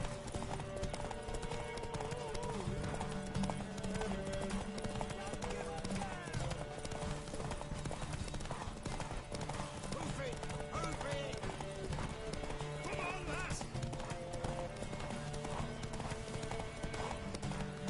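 Steady clip-clop of horse hooves galloping throughout, layered with game music and ambient effects, with an occasional horse whinny.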